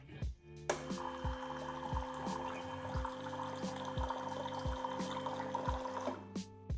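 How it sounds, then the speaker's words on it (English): Hot water runs from the rear water outlet of a Meraki espresso machine, a steady pouring and hissing stream lasting several seconds with a faint repeating mechanical pulse underneath, starting abruptly and stopping near the end. "This little thing at the back is the water outlet. And this is how you use it."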